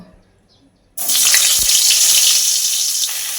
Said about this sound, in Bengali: তেলটা এখানে আমার বেশ গরম হয়ে গেছে তো আমি এই নুন হলুদ মাখিয়ে রাখা পটলগুলো এই তেলের মধ্যে লাল করে ভেজে নেব